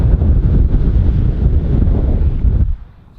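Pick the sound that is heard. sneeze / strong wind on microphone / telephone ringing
strong wind on microphone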